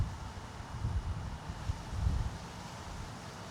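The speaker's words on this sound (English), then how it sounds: "the wind is blowing hard" Hard wind gusting over open water where an FPV drone is flown, a loud broadband rush buffeting the microphone with swelling gusts and no talking.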